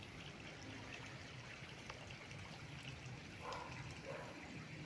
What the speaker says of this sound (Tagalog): itong tubig na to ay bukal. Yan, dire-diretso po yung nito, ang agos nito.